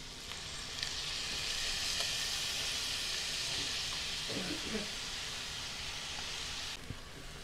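Shredded zucchini hits a hot pan and sizzles in a steady, bright hiss that holds for several seconds, with a few soft stirring clatters midway before the frying cuts off abruptly near the end.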